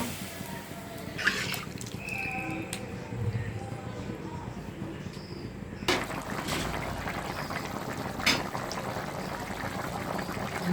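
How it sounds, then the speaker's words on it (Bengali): Liquid for gravy is poured over fried chital fish cooking in a pan, producing a continuous watery splashing and bubbling hiss with occasional clinks, with a voice speaking faintly at times. "এখন আমি ঝোল দিয়ে দিব"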